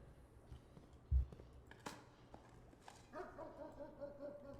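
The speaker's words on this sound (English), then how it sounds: "Dogs." Dogs bark and yip faintly in the video game Blue Prince, a few short, distant calls over a quiet backdrop with soft tonal game sounds.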